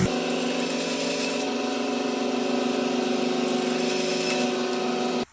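A power saw trims small walnut pieces, running as one loud, steady whine for about five seconds before cutting off abruptly.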